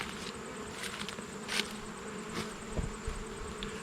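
Honey bees buzz around an open beehive during a September inspection. The hum is close and continuous, with individual bees flying past the ear in short louder swells.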